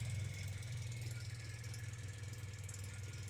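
A quad ATV engine running at a low, steady idle-like rumble with a faint rhythmic knock, close and fairly quiet, with no talk.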